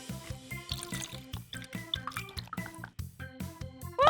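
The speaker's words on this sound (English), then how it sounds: "now we need 1/4 cup of water" Water is poured into a quarter-cup measuring cup while cooking vegetables, a run of quick wet drips and splashes with a soft gurgling fill, fairly quiet and close, no voices.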